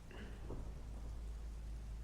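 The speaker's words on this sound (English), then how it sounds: "But I love the rain." Steady rain falls with a low rumble of thunder beneath it, a dense, even wash of noise that is soft and distant, with no voices.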